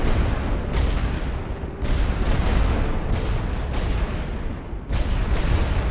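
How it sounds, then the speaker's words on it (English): WWI artillery batteries in a Western Front strategy game shelling forts, a dense barrage of deep booms and rumbling blasts arriving every second or so over a continuous low roar, loud and close. "all artillery batteries target those forts to weaken their defenses"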